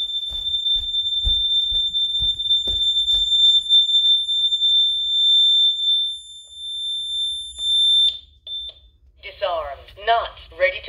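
A new Honeywell home security system alarm sounding during a test, a piercing steady high-pitched tone held for about eight seconds before cutting off, followed by a synthesized voice announcement and faint background knocks.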